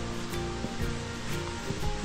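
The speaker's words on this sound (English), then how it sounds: "You hear the water crashing in the rocks in the background." Water rushing and splashing over rocks in Dean's Village, Edinburgh, a continuous broad roar with no other sounds.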